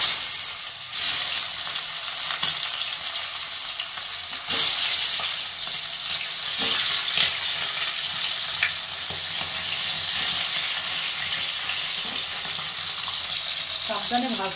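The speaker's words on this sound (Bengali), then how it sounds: "এবার ফলি মাছটা ভেজে নেব।" Pholi fish frying in hot mustard oil in a kadai, a loud, steady sizzle with occasional crackles and pops over the long, even hiss.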